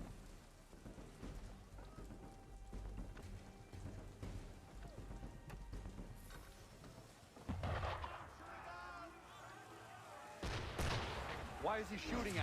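Ship cannon fire in Assassin's Creed 3, heavy booms that crash out at intervals over a stormy backdrop of rain and rumbling thunder while the ship sails at full speed.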